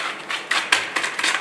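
Brisk whisking of carrot cake batter in a bowl, a rapid scraping and tapping that repeats in short bursts, close by with no voices.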